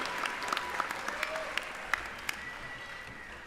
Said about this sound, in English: how about one more round of applause for the class of 2023?